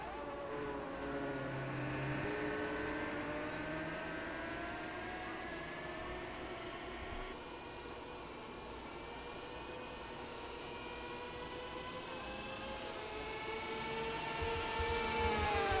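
A field of IndyCar race cars starting at Watkins Glen in a racing video game drone with layered, rising engine tones that swell and shift steadily, building louder toward the end with no talking.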